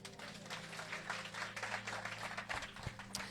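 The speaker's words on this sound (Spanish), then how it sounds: "Dale un aplauso aquí a mi Juan" A small church audience at a Madrid gathering claps together in a steady, moderately dense round of applause, faint and somewhat distant, with a low hum underneath.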